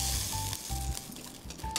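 Instant noodles sizzle and crackle in a hot pan, a steady frying hiss with brief scraping stirs, close and fairly loud.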